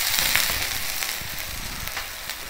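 Rava and raw mango adai batter fries on a hot pan, a close, steady sizzle broken by scattered crackling pops, with no voices.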